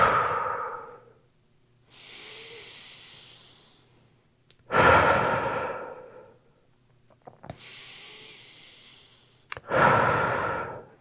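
A person recovering from surgery takes slow deep breaths, with loud breathy inhales and exhales in a steady rhythm, close to the microphone.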